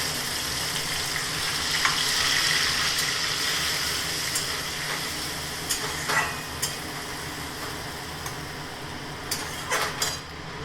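A spice paste of ginger, tomato, cumin and coriander fries in hot oil with a steady close sizzle, punctuated by sharp scrapes and clinks of a utensil stirring against the pan.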